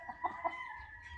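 Chickens on a farm give a few short, quiet clucks over soft background noise.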